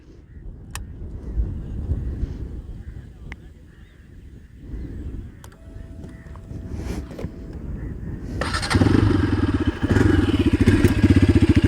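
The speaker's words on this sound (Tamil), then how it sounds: "இந்த வண்டியோட எக்ஸாஸ்ட் நோட் காட்டுறேன் உங்களுக்கு பாருங்கள்" A Bajaj Pulsar RS 200 BS6 motorcycle's exhaust burbles at a low, uneven idle with some street clatter, then swells into a louder, harsher, steady engine note near the end.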